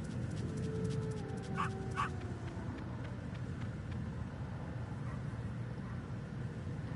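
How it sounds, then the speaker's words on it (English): Wolf pup whimpering in the video game Metal Gear Solid, a couple of thin high whines heard faintly over a steady background hum of game ambience, with no talk. "He's the little wolf pup."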